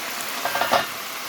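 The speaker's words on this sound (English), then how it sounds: "put a few in there and let these fry up." Steady sizzling of plantains frying in hot oil, with a few brief clinks or stirring bursts partway through.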